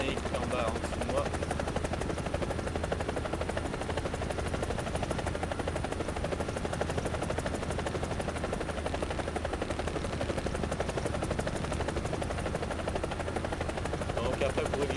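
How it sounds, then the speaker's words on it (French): A helicopter in the War Thunder combat game gives off a steady, loud rotor drone that never lets up across the whole stretch, with faint game effects underneath. "Il y a déjà un hélicoptère en bas, en dessous de moi."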